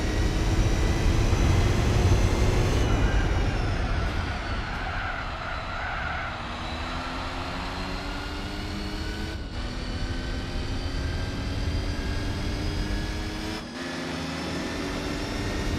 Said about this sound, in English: 82 and on the full throttle